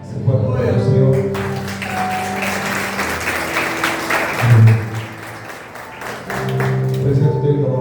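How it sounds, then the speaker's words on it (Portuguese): A church congregation applauds steadily across the hall, with tapping and clapping running throughout while voices and a sustained musical tone carry underneath. "Você pode aplaudir ao Senhor."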